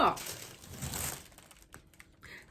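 Packs of plastic garbage bags are handled close up, giving a crinkling, rustling burst at the start that fades into lighter scattered crinkles, with someone talking faintly.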